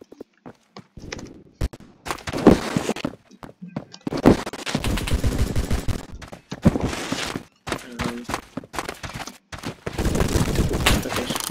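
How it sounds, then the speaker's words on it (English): Gunfire in the Roblox game Phantom Forces comes in bursts of rapid automatic shots and single cracks, separated by short silences, loud and close. "Okay, so people are shooting."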